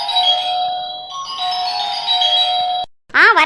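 A cartoon doorbell plays a loud, close, bright melodic chime for nearly three seconds, breaks off briefly, then sounds a second warbling ring.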